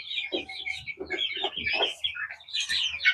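A group of about thirty chicks in a coop keeps up constant high cheeping, with soft low clucks mixed in, close and moderately quiet, and no talking.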